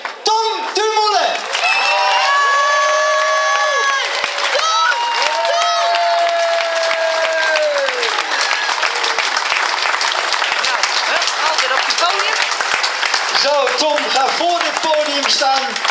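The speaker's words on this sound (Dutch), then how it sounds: "Ik wil een geweldig applaus voor de nieuwe Nederlandse kampioen tijdrijden, Tom Dumoulin." Crowd at the Dutch national time trial championship applauding and cheering for the new champion Tom Dumoulin, loud sustained clapping with whoops, while an announcer's amplified voice speaks over it at the start and end.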